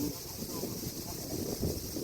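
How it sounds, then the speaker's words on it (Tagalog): Strong wind at a palace in Tokyo roars and buffets the microphone throughout, a constant low rumble with a hiss on top and no pauses. "Malakas ang hangin."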